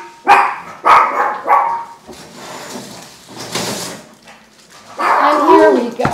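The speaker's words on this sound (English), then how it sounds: "that is our dog, Noah Artichoke." A pet dog named Noah Artichoke barks three times in quick succession, loud and close in a home kitchen, followed by rustling and a further burst of sound.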